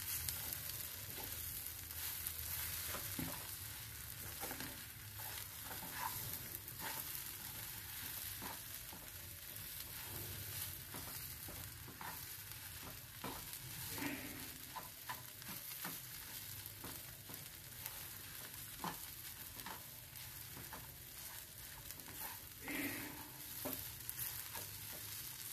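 Chettinad ukkarai sweet being stirred over low heat in a heavy kadai, a soft continuous sizzle broken by repeated scraping strokes of a spoon against the pan.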